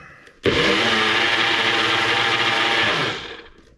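A NutriBullet blender whirs loudly and steadily for about two and a half seconds while mixing a thick strawberry and mint ice cream, motor starting abruptly and winding down at the end.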